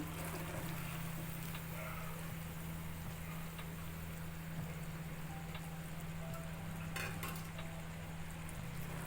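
Raw papaya pieces stirred into hot one-thread sugar syrup for tutti frutti, giving a steady bubbling sizzle with faint scraping stirs over a constant low hum from the stove.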